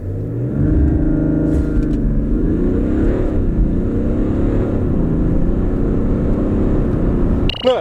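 A 2018 BMW X3 xDrive30d diesel SUV with M Sport package and 20-inch wheels accelerates hard, its engine note rising through the gears in loud, close sweeps with pitch climbing and dipping at each shift.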